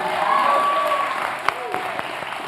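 Applause from an audience fills the clip, a steady wash of clapping with a sharp whistle or cheer rising above it partway through.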